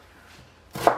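A knife comes down once on a board while cutting poultry for a chicken curry, a single close, crisp chop after a quiet stretch.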